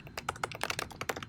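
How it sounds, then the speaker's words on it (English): Rapid typing on a computer keyboard while entering a website name, with a quick irregular run of close, crisp key taps and no talking. "And then I'll just type that in."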